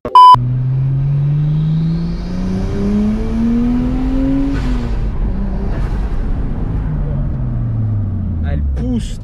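A Nissan GT-R GTT revs hard and accelerates, its engine note climbing repeatedly through the gears as a loud, close, continuous roar with rising pitch sweeps.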